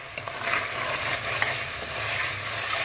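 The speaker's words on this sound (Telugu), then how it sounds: "ఇలా కలుపుకొని మళ్ళీ కాసేపు ఫ్రై అవ్వాలండి, కొంచెం సేపు." Turmeric, garam masala and salt for a biryani are stirred and fried in a pan, making a steady, close sizzle with soft scraping under it and no talking.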